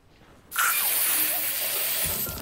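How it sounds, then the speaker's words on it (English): Pepper spray bursts out in a thriller movie scene, a sudden loud, close hiss that begins abruptly and carries on steadily for about two seconds, with a low thump near its end. "maybe perhaps pepper spray will actually come in handy"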